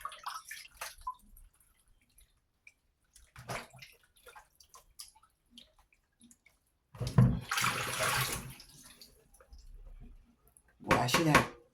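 Pork steak being rinsed under running water in a kitchen, short bursts of water and splashing, with someone talking in between.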